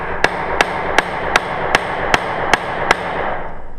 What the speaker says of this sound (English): as we drive our rivet, it's going to mushroom out on the inside here, tightening the metal down and making our fastened seam